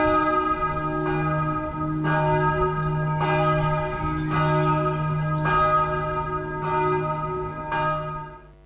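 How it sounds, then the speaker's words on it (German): Church bells of the monastery and pilgrimage church of Maria Himmelfahrt at Bernried, ringing in slow regular peals with a sustained humming tone beneath, each strike blooming and decaying, heard clearly from nearby with no talking. "Schöner Glockenklang."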